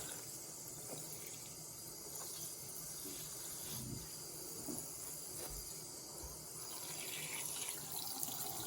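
Cold water runs from a tap while an embroidered towel is rinsed, a faint, steady splashing wash with a few soft bumps and no talking.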